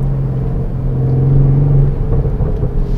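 A 2020 Mercedes-AMG C63S estate in Sport Plus mode gives a loud, close engine drone, steady and building to a strong rev peak before easing into a rougher rumble, with no talk over it.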